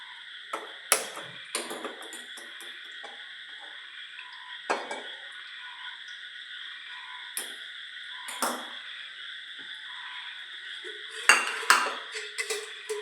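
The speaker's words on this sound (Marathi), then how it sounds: "मी आता तेल तापायला ठेवते" A pan of oil set on a home kitchen stove to heat for frying onion bhaji, with scattered metallic clinks and knocks of pots and utensils against a steady background hiss, louder clatter near the end.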